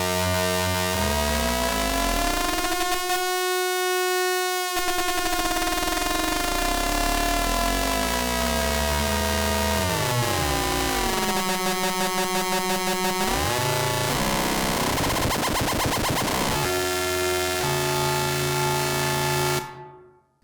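A b:ond module by b:art Instruments produces a through-zero FM synth tone from a sine wave, a loud, buzzy, harmonically rich drone whose pitches sweep and shift, briefly cutting out early and stopping abruptly at the end.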